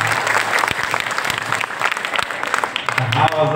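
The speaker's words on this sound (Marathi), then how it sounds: "पुरुष मंडळी टाळी." Men in the audience at a Marathi kirtan clap together in a loud, dense burst, with crowd noise and some voices mixed into the clapping.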